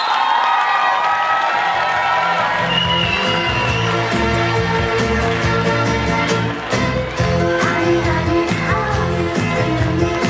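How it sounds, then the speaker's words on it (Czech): A school audience at a Catholic grammar school's ribbon ceremony for a graduating class claps and cheers, a dense, steady roar of applause with shouts and whoops running loud and unbroken throughout. "Takže velký potlesk"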